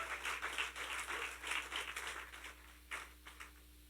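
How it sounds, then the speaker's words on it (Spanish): A church congregation claps during a sermon, a faint, distant patter of applause that thins out into a few scattered claps toward the end. "dale un aplauso al Señor"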